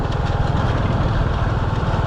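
Close, loud engine of a tractor running on a plantation, a steady low chugging throb with no pauses.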